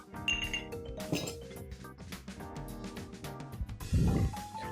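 Glass and ice clink lightly a few times as an Old Fashioned cocktail goes into a rocks glass with a clear ice cube, over soft background music.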